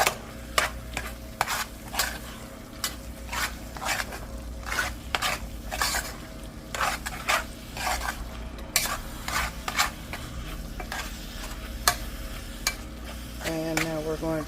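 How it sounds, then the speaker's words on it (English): A spoon scrapes and stirs vegan Philly cheese steak macaroni in a hot sizzling pan, with repeated rhythmic scraping strokes over a constant low sizzle, close and clear, and no talking. "Stir it in."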